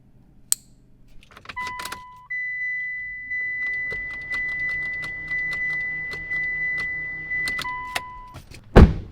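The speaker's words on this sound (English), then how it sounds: "plug in the crank sensor for you and try to turn it over" A Mitsubishi Evo X engine cranks repeatedly in a steady rhythmic churn without catching, accompanied by a continuous dashboard chime, with a few clicks before and after.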